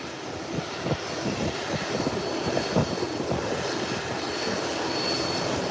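A British Airways 777 airliner taxiing in to park, its engines producing a steady, moderately distant roar with a broadband whine that holds evenly throughout.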